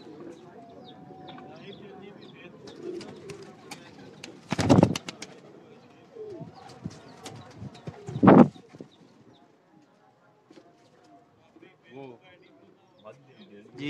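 Pigeons of a bred fancy strain kept at a home loft coo softly with two louder bursts of wing flapping or scuffling, while people talk quietly nearby.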